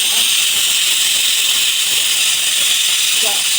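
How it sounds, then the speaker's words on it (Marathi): A pressure cooker whistle gives its first release, a loud, steady hiss of escaping steam with no break, heard up close in a home kitchen while a lemon pickle cooks. "कुकरची पहिली शिट्टी होत आहे"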